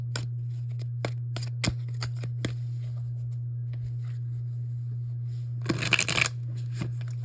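Tarot cards are shuffled by hand: scattered sharp taps and slaps, then a dense riffling burst near the end, over a steady low electrical hum.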